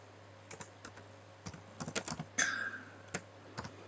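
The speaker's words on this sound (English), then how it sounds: "After having typed date, you type year." Typing on a computer keyboard while entering a spreadsheet formula: irregular clusters of light key clicks, some quick runs and single taps, one slightly louder keystroke, close and dry over a faint steady hum.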